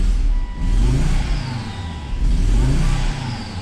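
A rebuilt Volvo S60R engine with an exhaust leak revs close up, surging in two loud pulls with a rough, rumbling low drone between them.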